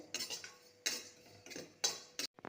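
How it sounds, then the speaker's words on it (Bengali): Cardamom and white cumin roasting in a pan, heard as a series of dry scraping and clinking strokes of a utensil against the metal, several distinct scrapes spaced irregularly, close and fairly quiet with no talking. "এই যে এলাচ আর সাদা জিরে ভেজে নিচ্ছে"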